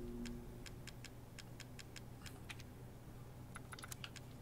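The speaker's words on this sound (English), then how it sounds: "I've got a typewriter." A typewriter in the video game Resident Evil Village taps out a quick, uneven run of sharp clicks, faint and quiet over a low steady hum.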